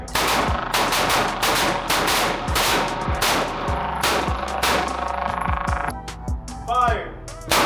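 Rapid volleys of pistol gunshots at an outdoor shooting range, many sharp cracks overlapping in quick succession from several shooters firing together, loud and close, with a brief lull near the end.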